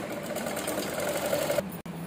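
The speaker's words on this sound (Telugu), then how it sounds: "పైన ఇంకొక స్టిచ్ వేసేయండి." Sewing machine stitching a kids' langa jacket in a tailoring class, a steady close whirring drone that stops abruptly near the end with a brief click.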